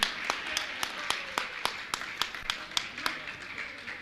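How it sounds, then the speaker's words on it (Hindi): Scattered, rhythmic hand clapping from an audience at a religious gathering honouring a family, with sharp, evenly spaced claps at a moderate distance and fairly quiet overall. "जोरदार जोरदार ताली बजा के इनका सम्मान करें"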